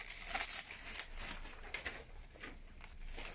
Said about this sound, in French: Avec des ciseaux qui ne coupent absolument pas, c'est un vrai bonheur.